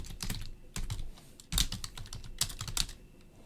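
Rapid typing on a computer keyboard, quick clusters of crisp key clicks with brief pauses between bursts, close and clear with no voices.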